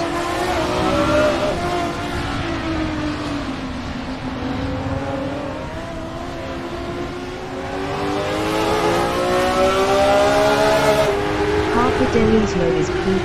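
Race cars at a racing-game start on a desert circuit roar together as they accelerate, with engine notes rising and falling across gear changes in a loud, dense, continuous blend.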